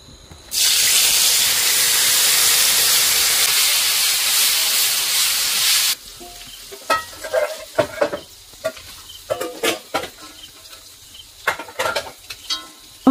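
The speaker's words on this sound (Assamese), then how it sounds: "তেল গৰম হোৱাৰ পিছত পনীৰখিনি মাত্ৰ 1 মিনিটৰ কাৰণে ফ্ৰাই কৰিব" Paneer pieces hit hot oil with a loud, dense sizzle lasting several seconds, then it cuts out into scattered clinks, scrapes and soft pops from the pan.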